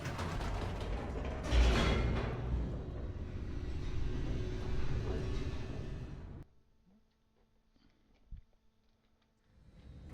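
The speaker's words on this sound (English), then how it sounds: "The elevator raced downward, plummeting towards an unknown fate." A descending elevator in The Stanley Parable video game gives a steady mechanical rumble with creaking, grinding layers and a loud clunk partway through. It stops abruptly into near silence, broken by a faint thud and quiet hum.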